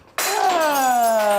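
A glass bottle smashed for good luck before a difficult exam, giving one sudden loud crash followed by a long, bright ringing tail that slowly fades, close and alone.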